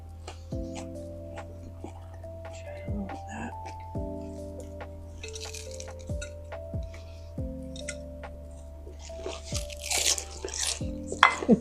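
Crisp crunching bites of crispy homemade tater tots, a handful of sharp crackles spread out, close to the mic, over a faint steady hum with light mouth noises.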